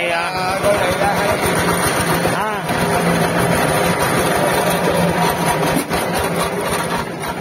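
A loud old tractor engine chugs steadily and unevenly, close by, with a rough mechanical clatter throughout, in Long Khanh, Dong Nai, Vietnam.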